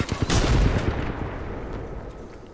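Rapid gunfire crackles in a video game firefight, a dense volley strongest at the start and then tailing off with lighter scattered shots, heard without any talking.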